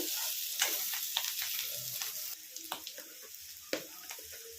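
Bitter gourd (kakarakaya) fries in a pan with a steady close sizzle, broken by brief crackles and a few scraping stirs, with no one talking.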